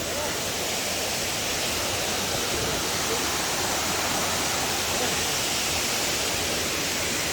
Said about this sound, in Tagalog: just to see the beautiful waterfall